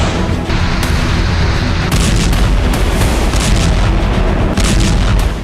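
Loud blasts boom through an oil supply route in a wartime news report, a dense rumbling roar with several sharp bursts breaking through.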